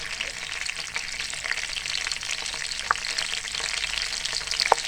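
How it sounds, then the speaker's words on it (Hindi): Cumin and carom seeds sizzle in hot oil in a pan, giving a steady close crackling fry with a few sharper pops and no voices. "ऑयल हमारा गर्म हो चुका है। अब हम इसमें जीरा शामिल कर दिया है, अजवाइन शामिल कर देंगे।"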